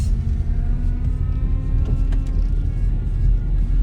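A manual transmission car pulls away at a speed bump with a little gas, giving a low, close engine rumble that holds steady and swells slightly, plus a few faint clicks, with no speech.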